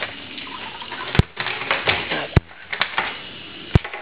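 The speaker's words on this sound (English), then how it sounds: "Let me show you how much water is coming out." Water streaming from a RODI filter unit into a container, a continuous splashing trickle punctuated by a few sharp clicks and knocks.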